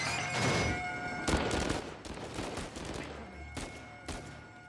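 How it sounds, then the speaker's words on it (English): Gunfire in Uncharted 4, a fusillade of overlapping shots and bursts from several weapons, loud and continuous with sharper cracks near the start and toward the end. "I'm just shooting at the wall there."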